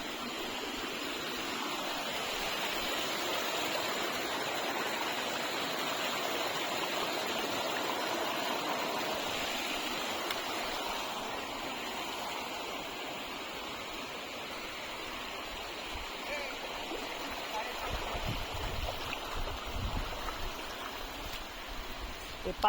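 A babbling stream on the Rupsi waterfall trail in Sitakunda, Chattogram, runs as a steady close rushing trickle through green forest, its flow continuous beneath a person speaking.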